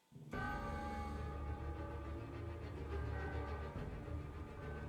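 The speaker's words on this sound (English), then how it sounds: "the chime is obviously because she's in a clock tower, it's a clock chime" A clock tower chime rings in the Bloodborne Lady Maria boss fight, a sudden loud metallic onset that sustains with layered ringing tones and a low rumble, steady and close without voices.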